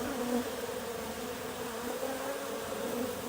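A dense, continuous drone of many bees buzzing close by during a hive rescue, steady and unbroken throughout.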